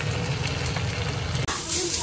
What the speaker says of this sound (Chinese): 我老妈在煎鱼了